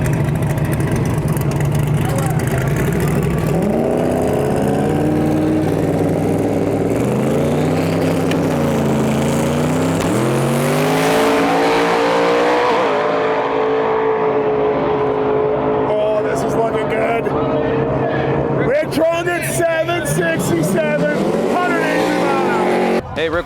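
A loud 1972 Plymouth Duster race car engine runs and revs, its deep tone climbing and falling through several revs before settling into a steady idle, with rattly bursts toward the end.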